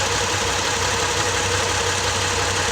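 A Ford Escape engine with a misfire idles steadily and loudly up close, a dense continuous rumble with a faint uneven pulsing throughout and no talk.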